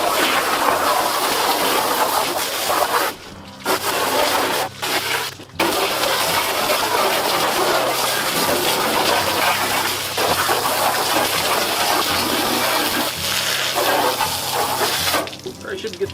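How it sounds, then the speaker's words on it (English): Water from a hose rushes steadily into the bed of a 1966 Ford F250 farm truck, a loud, continuous gushing spray with a few brief breaks and splashes, close by and without talk. "I'm gonna hose this out"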